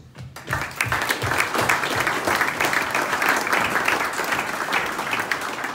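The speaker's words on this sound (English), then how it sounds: "I'd like everybody to give ourselves a round of applause" Guests at a Greyhound Derby lunch break into applause, many hands clapping loudly and evenly in a large room after a brief pause, sustained to the end.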